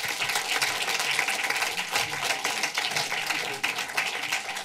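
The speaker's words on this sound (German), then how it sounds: "Großen Applaus, Dietrich Brüggemann" Applause rises from an audience welcoming filmmaker Dietrich Brüggemann to a talk, continuous, moderately loud clapping with no voices over it.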